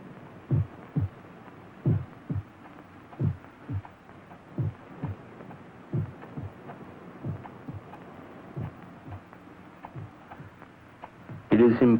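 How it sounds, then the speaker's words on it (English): Muffled heartbeat thudding in steady pairs of low, dull beats, close and alone over a faint hum, with a brief louder burst at the end. "For many minutes, the heart beat on with a muffled sound."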